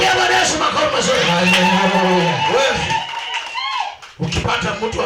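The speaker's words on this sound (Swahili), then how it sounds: "Chapia Bwana Yesu makofi mazuri." A church congregation at a Sunday service claps for Jesus, loud dense clapping and crowd noise mixed with voices and singing throughout.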